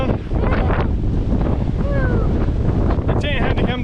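Strong wind buffets the microphone on an Alaskan island camp, a steady loud roar with gusty rumbling throughout and faint voice-like tones drifting in near the end.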